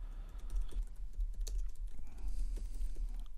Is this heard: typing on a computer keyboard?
yes